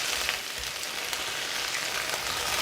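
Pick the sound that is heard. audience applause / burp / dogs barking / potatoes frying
potatoes frying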